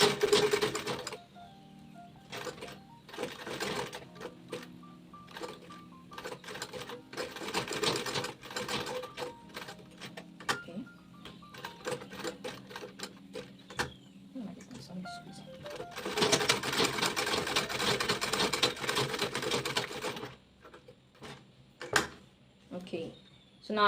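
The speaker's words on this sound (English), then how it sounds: "I'm just going to sew before back stitching, sew all around and then back stitch later on." A sewing machine box-stitches a fabric bag with fast, rhythmic mechanical whirring in repeated bursts of varying length, close and clear, stopping and starting between seams, as a person talks in between.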